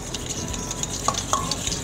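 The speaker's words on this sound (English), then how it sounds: "we're going to stir it up real good" A spoon stirs a Dijon vinaigrette with salt and fresh ground pepper in a bowl, a steady wet swishing broken by a couple of sharp clinks against the side.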